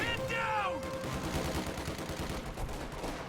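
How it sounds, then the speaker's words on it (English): Heavy .50 caliber machine gun fire in a strategy video game, dense sustained gunfire with other battle noise continuing throughout, loud and close, with a brief whistling tone near the start. "50 cal's doing a good job of suppressing these infantry here in the back"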